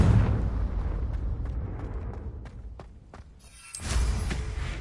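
Confringo explosion spell cast in Hogwarts Legacy: low rumbling blasts and crackles that fade, followed by a sudden louder burst with a rushing whoosh near the end.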